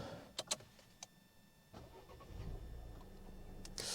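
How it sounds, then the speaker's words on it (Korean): A 2021 Volvo S60 B5 Inscription starting up: a few clicks and brief taps, then the engine catches and settles into a low, steady idle that slowly grows, heard from inside the car. "엔진 깨어날 때 느낌은 T5랑 큰 차이 없는 것 같아요"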